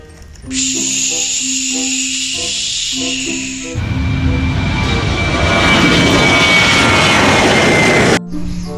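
A loud airplane engine roars and hisses steadily, swelling into a broad rushing blast before cutting off abruptly near the end.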